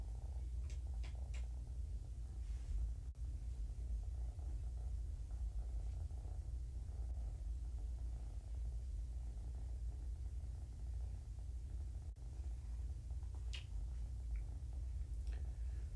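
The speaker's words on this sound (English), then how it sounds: "Dancer's getting really loud with her purrs." A kitten named Dancer purrs loudly and continuously at close range, a steady low rumbling throb with occasional faint ticks and rustles in a quiet room.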